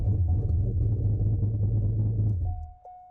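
A V8 car engine runs with a deep, steady rumble at idle, loud and close, then cuts off near the end, leaving a faint high tone.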